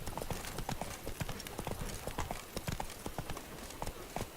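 Hooves clip-clop at a brisk, even gait across hard ground in Witcher 3, close and fairly loud, with no voices over them.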